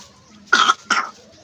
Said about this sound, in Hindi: ओह खांसी आ गई, खांसी आ गई।